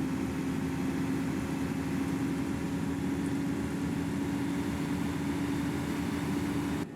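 A Volvo B10BLE bus engine in the OMSI 2 simulator roars steadily and loudly at a constant pitch, a continuous droning whine with a strong tonal hum, then cuts off abruptly at the end.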